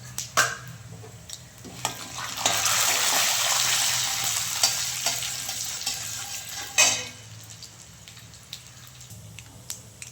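Chana dal drops into a hot oiled pan for potato masala, and a loud hissing sizzle swells and holds for several seconds. Clattering stirring knocks punctuate the sizzle before it settles back to a quieter crackle.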